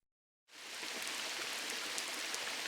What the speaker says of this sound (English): Why was it raining?